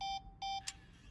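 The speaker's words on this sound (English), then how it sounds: "Are you not going to beep again?" Electronic beeps from The Stanley Parable video game: two sustained tones each lasting about a fifth of a second with a short gap between them, followed by a brief bright blip, clean and moderately loud.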